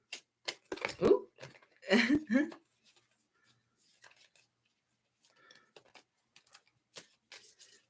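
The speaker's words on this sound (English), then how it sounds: "Right now, I'm just shuffling away, making sure that everything is good in terms of not having all the cards be one right after the other." Tarot cards are shuffled by hand close up, giving soft irregular riffling and flicking bursts separated by quiet pauses.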